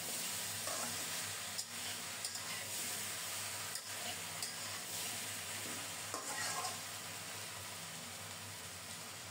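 Mixed vegetables for Bengali sukto are stirred and sautéed in a pan, giving a steady close sizzle broken by a few scraping stirs, with no talking.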